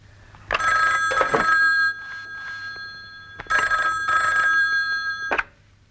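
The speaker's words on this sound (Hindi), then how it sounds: "अजय जी, जरा फोन लगा स्टूडियो में, पूछ क्या हुआ" A telephone rings in two long bursts of repeated electronic bell tones, separated by a short pause, loud and close, with no talk over it.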